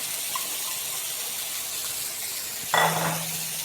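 Washed masoor dal is tipped into a pan of frying masala, a sudden hiss and clatter bursting over a quiet kitchen background and fading quickly.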